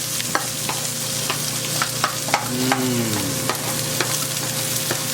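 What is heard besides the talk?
stir-frying onions and green peppers for sweet and sour pork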